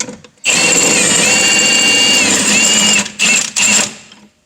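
A power tool spins a bolt while loosening the CV axle nut on a Volkswagen Eurovan, whirring loud and close in one long steady run, then two short bursts before cutting off.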